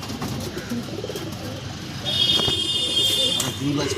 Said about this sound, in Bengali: এই একটা পায়রা দেখুন, গিরিবাজ পায়রা